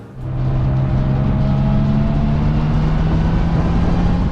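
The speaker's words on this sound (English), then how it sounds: "hearing that horizontally opposed flat 6 engine just roaring around back there" A 1973 Porsche 911T Targa's horizontally opposed flat-six engine roars steadily at high revs, a loud, continuous throaty drone with a sustained low tone, heard up close from inside the vehicle.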